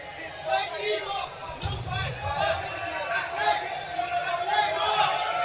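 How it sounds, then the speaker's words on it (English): A restless crowd murmurs at a BJJ Stars no-gi super fight, a steady, diffuse babble of voices filling the arena beneath a commentator's continuous talk. "the crowd getting a little restless here"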